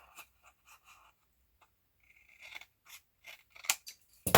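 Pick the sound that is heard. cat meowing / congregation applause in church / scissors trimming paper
scissors trimming paper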